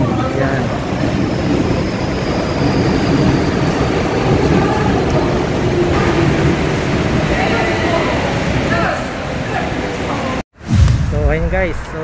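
A train rumbles past nearby on the way to a Costco, a loud, steady roar holding for about ten seconds before cutting off abruptly, with faint voices mixed in.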